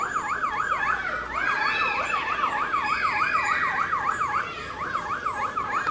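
A wailing, rising-and-falling fire service siren call sung by a bird, the imitation looping steadily over a noisy outdoor background.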